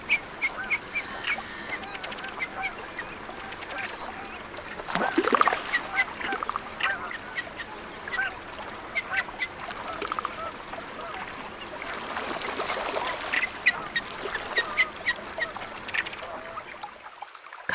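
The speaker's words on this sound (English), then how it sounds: "Ruddy Duck, Oxyura jamiensis." Ruddy duck (Oxyura jamaicensis) calls, faint scattered bird notes over a quiet outdoor background, with a denser burst of calling in the middle and more toward the end.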